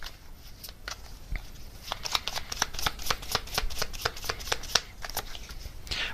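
Tarot message cards being shuffled, a rapid series of crisp, papery riffles and flicks close by, sparse at first and then dense and steady through the rest of the run.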